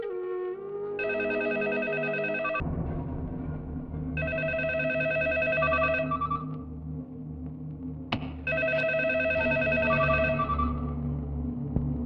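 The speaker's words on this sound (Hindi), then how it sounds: "फोन" A telephone rings in repeated long electronic bursts with short gaps, loud and close, over a low rumbling background in a Hindi-dubbed action film scene.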